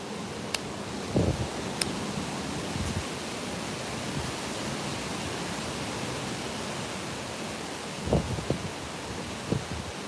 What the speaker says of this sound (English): That's some crazy ass wind gusts.